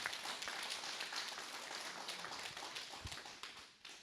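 Faint, steady applause from an audience at a Korean civic forum on housing, a dense wash of scattered claps that continues for several seconds and fades slightly toward the end.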